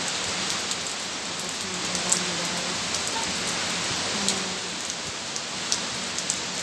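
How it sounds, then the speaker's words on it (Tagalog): Heavy rain pours down steadily in Hong Kong, a dense, constant hiss of water striking surfaces with scattered louder drops, and a voice speaks briefly under the downpour. "still heavy rain"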